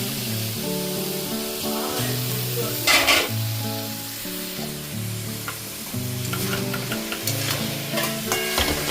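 Mushrooms sauté in a pan with a loud, continuous sizzle and frequent stirring scrapes, briefly flaring into a sharper hiss, while soft tonal notes run underneath.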